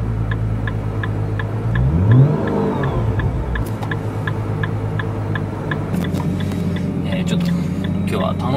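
A Nissan GT-R R35 engine cranks and catches, swelling into a rising rev before settling into a steady, deep idle, with a regular ticking click running throughout close to the listener.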